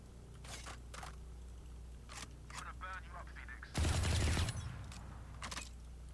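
A sniper rifle shot from the Valorant video game, one loud heavy burst standing out from quieter game sounds, with brief faint clicks and a chirping effect before it.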